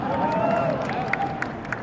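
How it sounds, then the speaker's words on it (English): Audience at Fan Expo Toronto 2021 applauds William Shatner, a steady wash of clapping and crowd murmur with a few sharper claps standing out, holding at an even level from start to finish. "Lots of applause for McGill, that's great"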